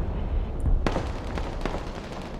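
Artillery and missile fire in the war video game Broken Arrow: a steady low battlefield rumble broken by a couple of sharp explosive bursts and pops, loud and fairly close, with no voices.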